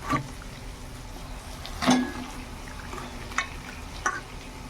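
Pieces of meat going into hot spiced oil in a pan, giving a steady low sizzle with a few sharp splashes and clinks as chunks drop in, close by with no talk.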